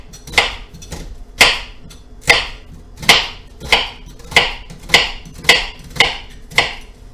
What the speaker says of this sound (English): we're going to make mincemeat out of this onion rather quickly with this knife